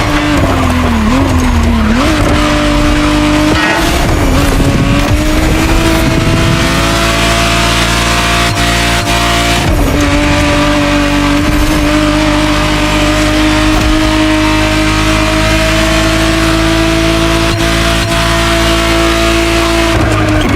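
Ferrari 512TR, the 1991 re-engineered Testarossa, in the racing game The Crew Motorfest: a loud, steady engine drone held at high revs, with tire squeal and skidding woven through, and no talking.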